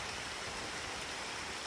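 Heavy rain pours on Samal Island, a dense, continuous hiss of drops striking surfaces, steady and enveloping with no pauses.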